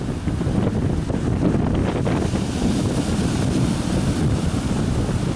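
Strong wind buffets the microphone while waves slap and surge around an overloaded barge out at sea, a steady rough roar with no voices.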